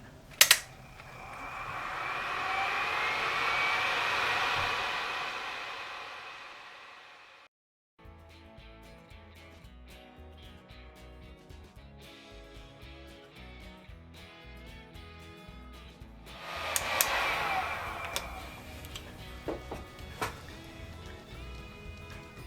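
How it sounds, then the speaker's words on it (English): A heat gun running on a model ship, a steady close airy roar that swells, cuts out abruptly, then returns later over a busy clattering mechanical background with no talking. "we'll start the time lapse very shortly after the heat gun goes on"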